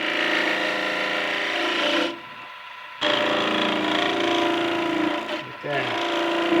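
A skew chisel cutting wood shavings, a sustained close rasping scrape that stops for about a second, starts again, then breaks briefly before resuming, with no talk.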